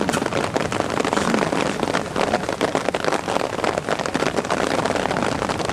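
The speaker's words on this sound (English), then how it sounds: "The rain is pouring down, but these wrestlers are still in it." Heavy rain pours down steadily outdoors during a BWA wrestling match in July 2010, a dense, unbroken hiss of water drumming on surfaces with no pauses throughout.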